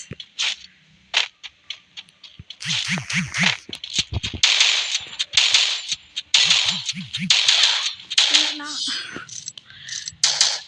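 Rapid bursts of Free Fire gunfire crack sharply in quick sequences, with bright metallic clinks between volleys and brief pauses separating the bursts.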